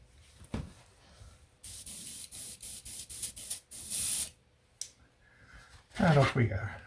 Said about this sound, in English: I'm moving up to the HP TR2, which is the Iwata airbrush